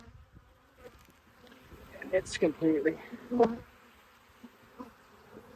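Honey bees swarm and buzz in a long-abandoned hive opened for its first inspection in years, its frames packed with honey; a steady, close insect drone rises and falls beneath a voice talking.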